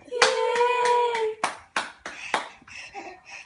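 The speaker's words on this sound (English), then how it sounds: "Clap your hands, clap your hands." A few sharp hand claps ring out in quick succession during a children's gym sing-along, following a bright tonal sound at the start.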